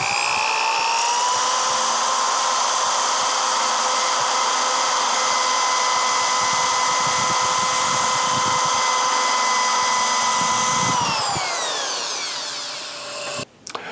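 Power sander running steadily on a hollow sphere with 100 grit abrasive, a loud continuous whine with sustained tonal bands, winding down near the end.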